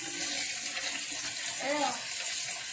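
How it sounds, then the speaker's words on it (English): Tap water runs steadily over meat being rinsed in a kitchen sink, a soft continuous hiss and splash. A faint voice murmurs briefly underneath. "just rinse your meat. I always rinse my meat."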